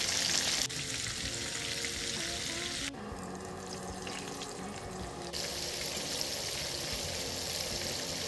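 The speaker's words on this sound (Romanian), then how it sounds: "Peștele sfârâie în tigaie," Pieces of crucian carp fry in hot oil in a pan, a dense, steady sizzle that shifts in level as the fish is moved, close and loud throughout.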